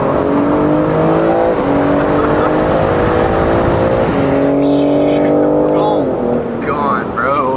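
A BMW G80 M3 pulls hard through the gears, its engine note climbing in repeated rising sweeps with quick shift breaks, loud and close from inside the cabin, with excited voices talking over it.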